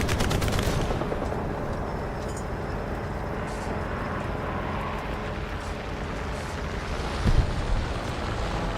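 Gunfire in the video game War Thunder, a rapid burst of shots at the start followed by dense rumbling battle noise and a sharper blast near the end, loud and continuous.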